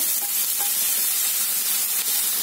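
Onion and tomato sizzle and crackle steadily in a hot pan, a loud, constant frying hiss close up.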